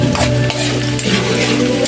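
Garlic sautés in a hot pan with a loud, close sizzle that runs the whole time, and a stirring scrape comes near the start.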